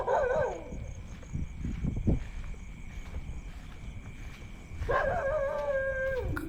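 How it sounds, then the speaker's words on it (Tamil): Two mournful dog howls, one at the start and a longer one near the end, separated by rustling and low rumbling noise. "அந்த நாய் வந்து இப்படி ஒரு ஊழையும் அந்த சவுண்டும் கொடுத்துருக்கு"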